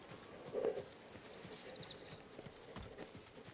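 Horses walking in the Ghost of Tsushima video game, a steady clip-clop of hooves that stays faint and distant, with one slightly stronger step near the start.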